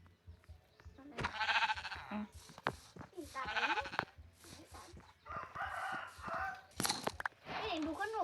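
Sheep in a Minecraft survival game bleat in repeated wavering calls, several separate bleats spread across the stretch, mixed with other game animal noises and a person talking over them.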